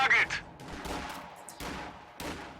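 Short bursts of MG42 machine gun fire in the World War II strategy game Company of Heroes 2, fairly quiet and clipped, heard beneath a commentator's voice.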